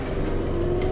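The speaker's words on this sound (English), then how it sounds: "They're just using the motor right now until we get a little further out to the open water" The motor of a traditional sailboat leaving Shella harbour in Lamu, Kenya, gives off a steady, loud, close droning hum with a constant engine tone and no talking.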